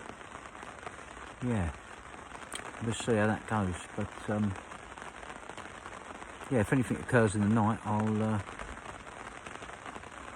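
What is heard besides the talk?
heavy rain lashing down at a carp fishing lake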